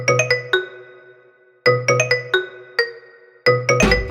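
A phone ringtone plays for an incoming call, a bright chiming melody in repeated short phrases with pauses between them, loud and close, with no talking.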